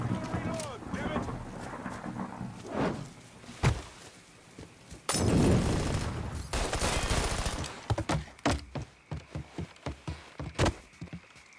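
Gunfire erupts in a Mafia III firefight: scattered sharp shots, a dense burst of sustained fire in the middle, then a rapid run of close, loud reports, with shouting voices over the combat.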